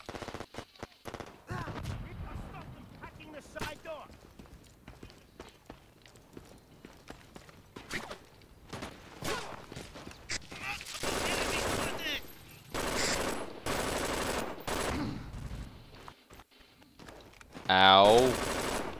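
A machine gun fires in the video game Brink in loud, dense bursts of many rounds, mixed with other game noise and someone talking between and over the shots.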